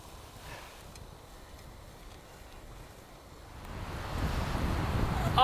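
Wind gusts on an open hilltop, building from a soft rush to a louder, blustery roar against the microphone toward the end.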